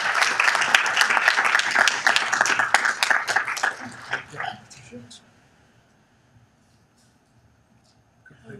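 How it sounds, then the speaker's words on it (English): Applause from a city council meeting audience, dense clapping for about four seconds before tapering off into near silence, with a few faint voices at the end. "Please give them another round of applause."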